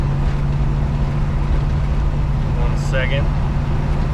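A 1973 Chevy C20 pickup cruises at about 45 mph, its steady engine drone and road rumble filling the cab loudly and continuously, with a brief spoken remark near the end.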